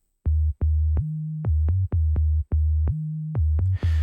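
A clean, dry synth bass with no effects, 808-like, plays a short rhythmic pattern of deep notes with clicky attacks, alone and fairly loud, ending with a burst of noise.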